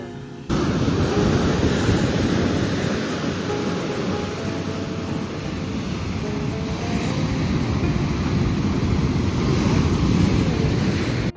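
Ocean waves roll and wash steadily at Someshwara Beach in Mangalore, a loud, continuous surf roar with heavy wind buffeting the microphone throughout.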